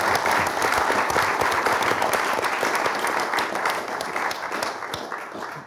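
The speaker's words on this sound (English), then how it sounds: "Can we get a round of applause for the guys," A crowd at a live conversation event with music producers applauds steadily, dense clapping loud and sustained throughout before tapering slightly at the end, with no speech over it.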